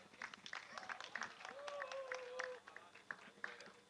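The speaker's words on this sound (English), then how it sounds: "please give one big round of applause for your overall KZ grid" A crowd applauds the KZ kart grid drivers at a Macau karting academy event, scattered claps heard fairly faintly with a voice and a tonal sound briefly over them.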